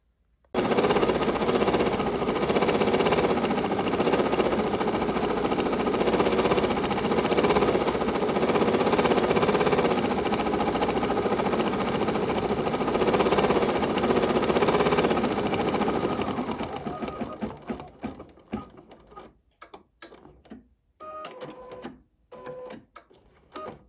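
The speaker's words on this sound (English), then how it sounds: "Now I'm ready to stitch it out." A Bernina 880 Plus embroidery machine stitches steadily with a loud, fast mechanical hum and rattle that runs unbroken for about sixteen seconds, then stops and leaves a few scattered clicks and handling noises.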